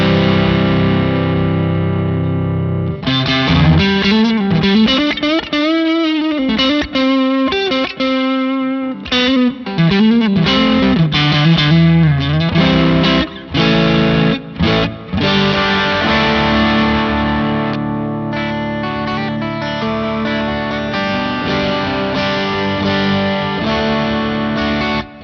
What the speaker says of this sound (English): I really like the blues breaker and a little bit of reverb just as a very basic, general, all-around tone